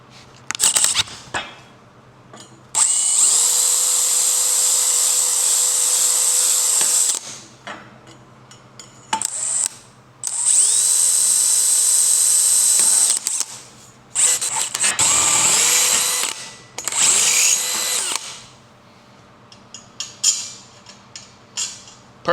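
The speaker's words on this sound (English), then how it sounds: "Always start off with a smaller pilot drill bit and then slowly make it bigger" A power drill with a small pilot bit whirs in repeated bursts through bent pipe, high-pitched and close, with short pauses between runs and a couple of quick final stabs.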